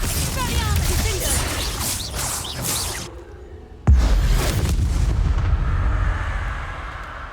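A Confringo blasting spell in the video game Hogwarts Legacy fires in loud whooshing bursts, then cuts to a sharp booming explosion that trails into a rumbling roar.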